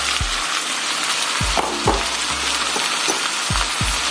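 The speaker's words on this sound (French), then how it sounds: "Je vais donc laisser ces légumes-ci là bien mijoter et bien cuits." Corn, green beans and peas for shrimp fried rice fry in a pan, giving a steady sizzle with several low knocks and stirring sounds scattered through it, without speech.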